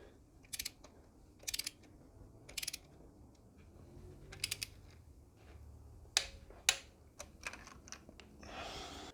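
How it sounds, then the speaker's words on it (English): A torque wrench clicks as a Toyota Landcruiser spark plug is tightened. Short, close ratcheting bursts repeat at intervals against a quiet background, ending in a slightly denser cluster of clicks. "grab a torque wrench and pop your spark plug socket on there"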